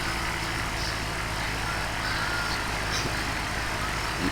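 Cessna 172 piston engine droning steadily from inside the cockpit on landing approach to RDU, a constant loud rumble with wind noise and no speech.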